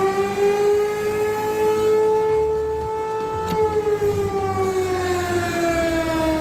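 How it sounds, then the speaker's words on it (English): A Thunderbolt T128 outdoor warning siren with an imbalanced rotor wails loudly in a steady, harmonic-rich tone that dips slightly and wobbles, with a sputtering, uneven rumble underneath. "this siren here is a T128"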